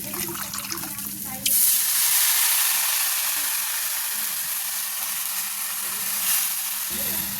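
Onion, chili and garlic sizzle steadily in a hot pan with oil, with greens about to go in, in a home kitchen. After a short lead-in a loud, even hiss starts and holds to the end, with a brief flare near the end.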